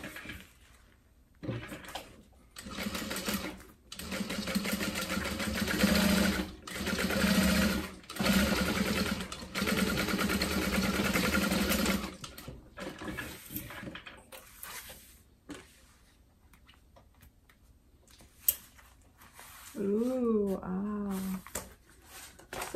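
A sewing machine top stitches a tote bag through its seam allowance in bursts of steady whirring, with pauses between runs, while a person talks over and between the stitching.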